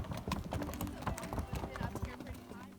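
A trail-experienced mare's hooves clip-clopping steadily along a trail in a quick, even rhythm, fairly faint and close, with a voice talking over it.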